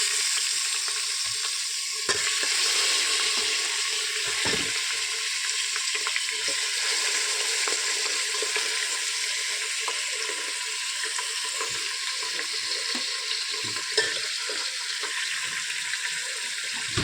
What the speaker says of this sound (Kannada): ಈಗ ಇದಕ್ಕೆ ನಾವು ಚಿಕನನ್ನು ಹಾಕೋಣ